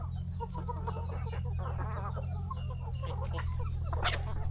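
On a country chicken farm, large crossbred roosters cluck and murmur in soft, repeated calls against a steady background hum, moderately distant and unbroken by speech.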